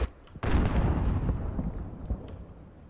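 Mortar and artillery fire in the video game Call of Duty: Modern Warfare: a sharp blast followed by a rumbling, decaying roar with smaller thuds, loud and close.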